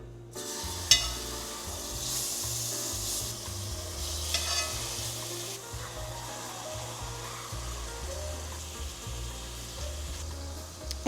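Four chicken breasts fry in a warm oiled skillet, giving a steady hiss with scraping and stirring noises and a couple of sharp pops, close and moderately quiet, with no talking.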